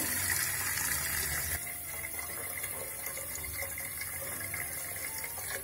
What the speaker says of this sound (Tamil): முதல்ல ஒரு வாய் அகலமான பாத்திரத்தில் தண்ணி பிடிச்சிக்கலாம்.